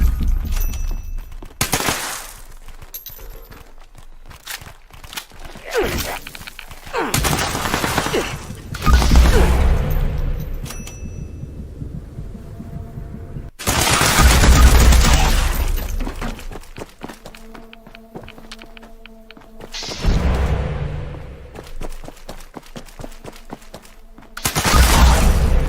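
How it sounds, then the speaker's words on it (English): Explosive fixer rifle in Fallout 76 firing repeated loud bursts of gunfire with cracking, shattering explosive impacts, coming in several heavy volleys separated by brief lulls. "This is the bloody explosive fixer."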